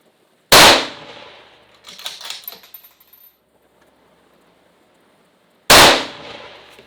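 Two loud, sharp rifle shots ring out about five seconds apart at a 1,000-yard clay pigeon target, each blast decaying quickly, with a faint clatter and brief rustling between them.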